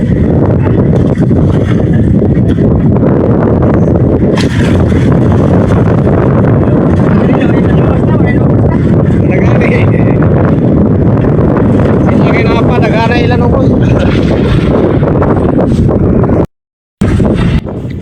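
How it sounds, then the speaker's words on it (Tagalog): Strong northeast monsoon wind buffets a small fishing boat at sea, a loud, constant roaring rumble battering the microphone, with a voice speaking over it and a brief cut near the end. "Lakas ng hangin amihan"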